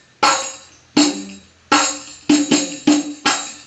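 A hadroh frame drum is played close up, alternating bright rim taks with deeper resonant dung strokes in a loose pattern of seven hits. The hits get quicker toward the end, with no voices.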